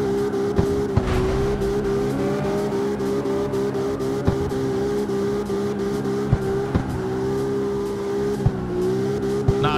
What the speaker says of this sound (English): The engine is the monster in this case.